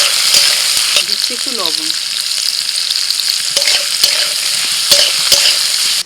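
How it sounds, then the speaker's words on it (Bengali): Beans, capsicum and carrots fry in hot oil with a steady, close sizzle and a few utensil clicks, while a voice speaks briefly over the cooking. "এবার ওই তেলের মধ্যে দিয়ে দিচ্ছি বাকি সবজিগুলো, বিনস, ক্যাপসিকাম আর গাজর সব একসাথে দিয়ে দিচ্ছি।"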